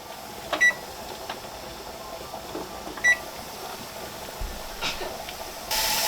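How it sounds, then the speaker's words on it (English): A kitchen timer beeps twice in short bursts while beef is pressure canned, the chirps sitting over a steady hiss of venting steam from the canner. "So now I am going to set the timer for 10 minutes before adding my weight."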